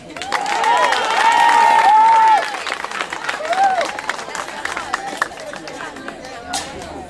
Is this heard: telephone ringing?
no